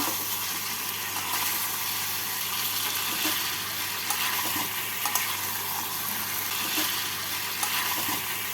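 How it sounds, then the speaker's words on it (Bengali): Mutton sautéing in a pan over a medium flame, giving a constant even hiss of hot oil with occasional faint stirring scrapes and small pops, close by. "গ্যাসটাকে মিডিয়াম ফ্লেমে রেখে আমি মাংসটাকে কষিয়ে নেব"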